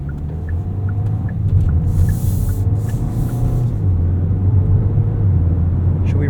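A 2026 Kia K4 GT-Line turbo hatchback driving with its automatic gearbox shifting on its own gives a constant loud low engine and road rumble from the cabin, with a brief hiss partway through.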